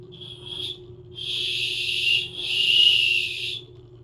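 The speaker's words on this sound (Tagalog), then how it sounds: "Ganon, pito." A whistle attached to a bag blown in three shrill, steady blasts, one short and two long, loud and close with a low hum underneath.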